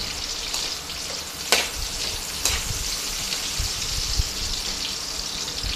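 Garlic and chili being sautéed in a pan for spicy pork adobo give a continuous close sizzle with occasional louder scrapes and taps of a utensil stirring the pan.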